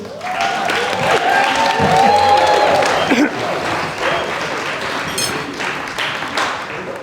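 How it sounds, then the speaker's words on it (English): Wedding guests break into a loud round of applause for the groom at a reception, dense sustained clapping filling the room with a few voices and cheers mixed in before it settles. "Massive round of applause,"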